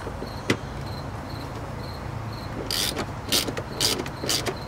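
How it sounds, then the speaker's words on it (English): A ratchet turns out seat bolts inside a BMW E92 M3 cabin, several short bursts of quick clicking in the last two seconds after a single sharp knock, over a quiet background hum. "so I'm taking off these two screws"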